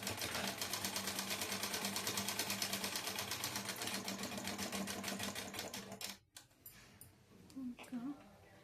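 A sewing machine stitches tucks on a katori choli-cut blouse with a fast, steady mechanical chatter for about six seconds, then stops abruptly, leaving a few faint handling noises.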